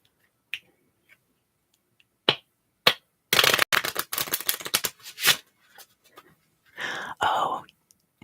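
Tarot clarifier cards being shuffled and dealt, heard as a quick run of crisp riffling snaps followed by softer sliding and flicking of cards, close and quiet with gaps of silence.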